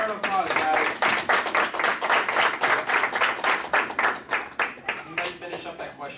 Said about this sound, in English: Give Owen a round of applause, guys